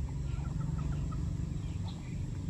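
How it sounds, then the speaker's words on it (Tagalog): Several large chickens cluck in short soft bursts beneath a steady low rumble of outdoor background noise. "ang laki ng manok"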